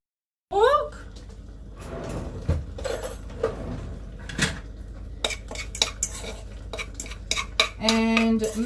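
Quinoa, pork and mesclun greens being stirred in a pan for a tofu shakshuka base, with a utensil clattering and scraping against the cookware in quick irregular knocks, close and fairly loud, plus some cupboard-like bumps.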